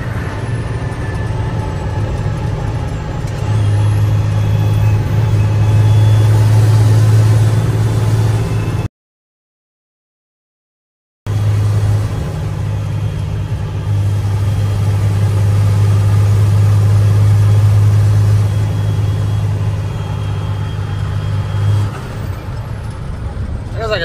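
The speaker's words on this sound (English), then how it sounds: "There goes the engine again." A truck engine runs at a steady idle, a constant low droning hum with a short gap of silence partway through.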